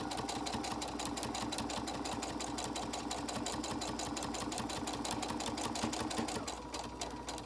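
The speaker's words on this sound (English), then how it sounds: "I'm just sewing with a universal needle." A sewing machine with a universal needle stitches a fabric mask, running in a fast, steady mechanical patter close by, with no pauses and no talking.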